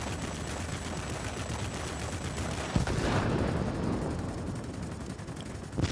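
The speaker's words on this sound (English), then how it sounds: "throw some rockets into it" Rockets fired at an anti-aircraft gun in World of Warplanes, over a constant loud engine roar, with a sharp blast partway through and another brief impact at the end.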